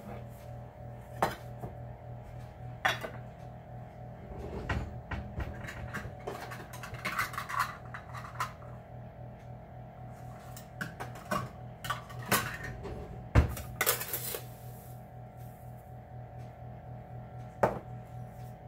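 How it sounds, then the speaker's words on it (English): White and brown sugar are being stirred together in a bowl, with soft scraping and light clinks of a utensil against the dish, quiet and close, with occasional sharper taps. "now I'm going to mix together 2/3 of a cup of white sugar"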